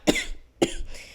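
Two short, close coughs from one person, about half a second apart.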